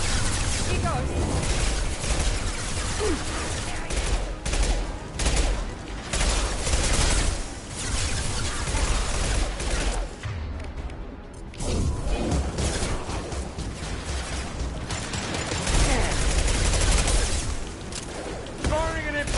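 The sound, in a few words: impact shot gunfire in a PS4 video game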